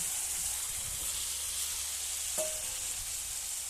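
Steady sizzle of potatoes frying in oil with a cooked-down spice paste, broad hiss throughout with a brief stir or clatter midway; no talking.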